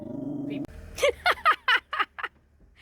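A dog barks in a run of about six sharp, evenly spaced barks, close by, after a brief low rumble at the start.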